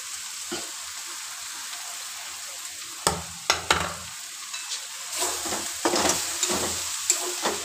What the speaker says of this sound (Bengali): এইভাবে পুরটা নাড়বেন